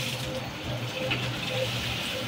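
Fish curry broth poured into a pan of ridge gourd makes a steady, close liquid pour and bubbling rush that continues without a break, with faint kitchen clatter beneath.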